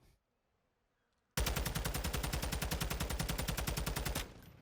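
A TAQ 56 rifle fires in a video game at a 20-meter range, delivering one loud, sustained, rapid burst of evenly spaced automatic shots that lasts about three seconds after a short silence, with no talking.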